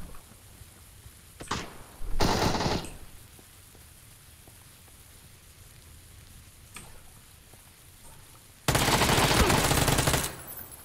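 Shotgun blasts in the battle-royale game PUBG, fired nearby: two short bursts early, then a long loud blast after a quiet stretch, alone with no talk.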